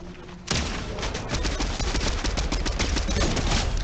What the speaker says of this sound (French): Ça me tire dessus, ça me tire dessus.